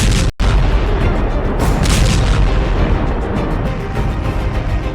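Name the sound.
missile strikes and explosions in an Iranian attack on Israel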